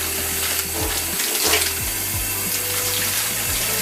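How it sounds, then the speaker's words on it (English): Steady cold water pours and splashes from a tap into a salad bag, a close, continuous rush with faint gurgling as it fills. "We're just going to fill the bag with cold water, let it run in there"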